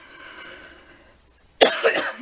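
A person with lung cancer and a radiation-damaged esophagus coughs in a sudden close burst of harsh, rasping coughs after a quiet stretch of faint breathing.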